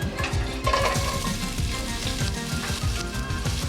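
Onions frying in a few teaspoons of clarified butter in a pan for a restaurant-style curry chicken, a steady close crackle with stirring scrapes and low rumbles throughout, no talking.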